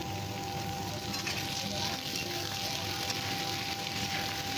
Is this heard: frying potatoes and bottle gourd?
yes